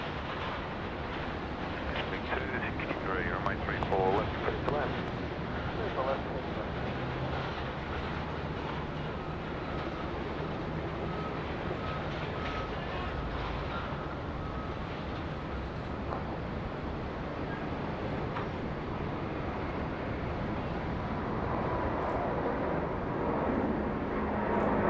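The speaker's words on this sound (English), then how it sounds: "American Airlines 72 off to Los Angeles. Rolling down 34 left, the main north-south runway here" An American Airlines jet bound for Los Angeles rolls down runway 34 left at Sydney Airport, a broad rumbling engine roar heard from a distance that swells and holds steady for a long stretch.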